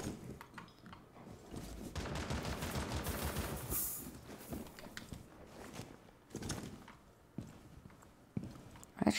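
Gunfire in the tactical shooter Rainbow Six: Siege: dense bursts of rapid shots crowd the first few seconds, then fall to scattered single cracks and short volleys, close and fairly loud, with a final sharp shot at the end.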